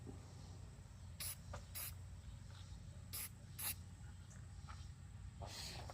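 Short bursts from a spray can hiss in a few quick blasts, separated by pauses, over a low background hum; spraying oil onto a K&N motorcycle air filter during recharging.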